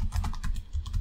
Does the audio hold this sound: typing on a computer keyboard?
yes